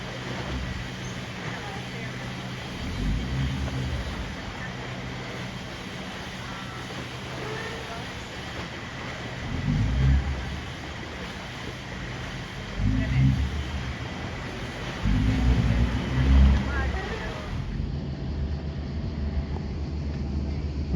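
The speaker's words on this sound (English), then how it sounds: "we got the ferry across the lake" A ferry crosses Lake Como with a steady low engine drone and water rush throughout, and several bursts of nearby chatter and deeper thumps over it.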